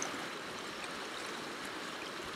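Fast water flows through a wild brown trout stream in Sutherland, a steady close rushing and babbling wash with no voices over it.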